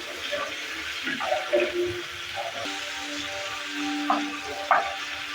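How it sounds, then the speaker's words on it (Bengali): Shrimp fry briefly in hot oil in a pan, giving a steady close sizzle with a few spattering pops and stirring sounds. "এবার এর মধ্যে চিংড়িটাকে ভেজে নেব।"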